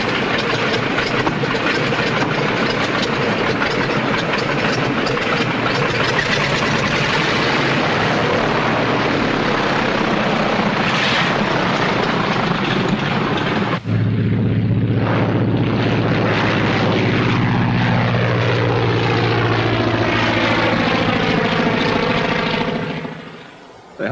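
Loud, steady propeller airplane drone from a 1930s aviation action film, a dense continuous roar that shifts partway through into a sweeping tone with rising and falling harmonics, fading out at the end.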